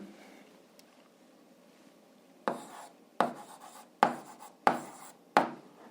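Pen strokes on paper while working an 8th-grade algebra exercise: a quiet stretch of soft scratching, then five sharp, evenly spaced strokes in the second half, close and fairly loud, with no talking.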